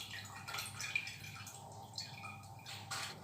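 Water drains from milk cream through a strainer as a faint, soft trickle with scattered light drips, close by and quiet throughout.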